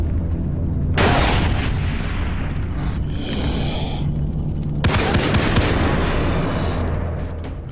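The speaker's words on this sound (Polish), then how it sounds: "Zmarnowany granat, tak między nami mówiąc." Two heavy, booming grenade blasts go off in Far Cry 3 about four seconds apart. Each starts with a sudden, loud burst and trails off into a rumbling roll of debris, with no talk in between.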